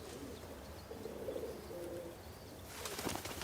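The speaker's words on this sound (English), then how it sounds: "A flock of pigeons," A flock of pigeons coos softly in low murmurs, then a burst of flapping wings breaks out near the end as birds take off, fairly close and without talk.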